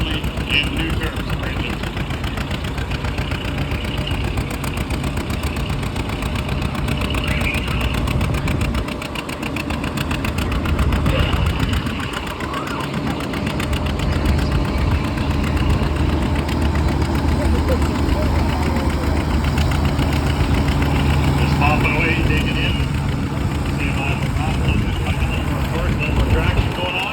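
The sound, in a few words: 1953 tractor engine pulling at a tractor pull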